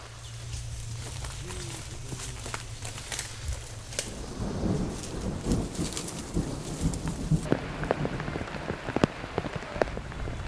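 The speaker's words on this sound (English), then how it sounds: "it started raining in the forest" Steady rain falling on leaves in the jungle forest of Cuc Phuong, Vietnam, a close, dense patter that grows heavier partway through, with occasional birds and no talking.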